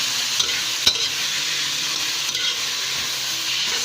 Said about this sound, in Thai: ผมก็ใส่หัวปีที่ผมลวกไว้นะครับลงไปเลยนะครับ ใส่ลงไปเลย แล้วก็ผัดเข้าส่วนผสมให้เข้ากันเลยนะครับ